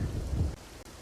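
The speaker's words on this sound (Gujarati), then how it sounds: "જાફરાબાદમાં ધોધમાર વરસાદ શરૂ થયો છે।" Heavy monsoon downpour with rumbling thunder in Kutch, a dense, loud, continuous roar of rain and low thunder that drops slightly in intensity partway through.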